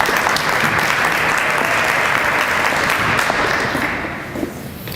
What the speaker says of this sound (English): Please give Susan a round of applause.